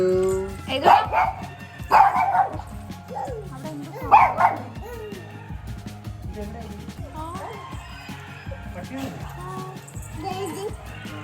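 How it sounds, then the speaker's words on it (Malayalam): Dogs bark in loud bursts, three sharp outbursts early on, then softer whining yelps, with people talking underneath. "ഭയങ്കര കരച്ചിലേക്കുന്നുണ്ട് കേട്ടോ ഡോഗ്സിന്റെ."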